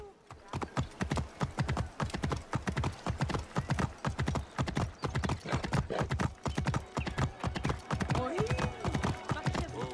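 A horse gallops steadily through Assassin's Creed Origins, its hooves clip-clopping in a rapid, continuous rhythm, loud and close, with faint game ambience behind.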